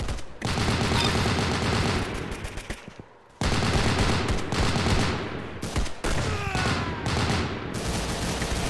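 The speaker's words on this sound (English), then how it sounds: "I think this is a saw. A squad assault weapon. This is a serious piece of firepower here." A SAW squad assault weapon fires in the Roblox game Arsenal, giving loud, dense bursts of rapid automatic gunfire. A brief pause comes around the third second before the sustained fire resumes, and the bursts go on to the end.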